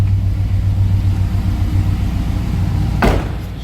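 2005 Chevrolet Silverado with a 5.3 V8 and about 119,500 miles idles with a steady, low exhaust rumble heard from close by, and a single sharp knock near the end.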